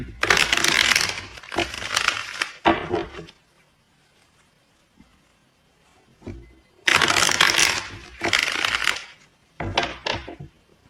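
Tarot cards are shuffled in rapid riffling bursts, several close together, then a quiet pause before another run of brisk, papery shuffles, all close and alone.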